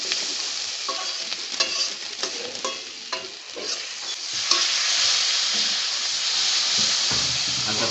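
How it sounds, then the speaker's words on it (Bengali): Pointed gourd stir-fried with chili powder in a pan, giving a steady close sizzle and frying hiss broken by repeated scraping and stirring strokes throughout. "এবার এটাকে আমরা কষিয়ে নেব।"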